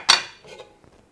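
A metal lid is set onto a soup pot with one bright clank, followed by a couple of fainter rattles as it settles.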